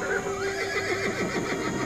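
A single loud horse neigh rings out close by, a long wavering whinny that rises and then breaks into shaking, descending pulses across about two seconds.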